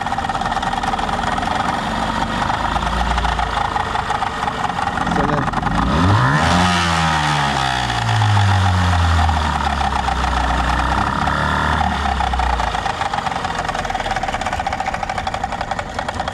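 A small mini speedboat motor with a blown engine drones steadily and loudly, its pitch rising and falling as it revs up and settles again, with no clear talking.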